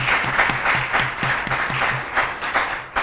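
Church congregation applauding and acclaiming the Lord during a service, a steady rhythmic clapping with repeated low sung or chanted tones underneath, full and close throughout.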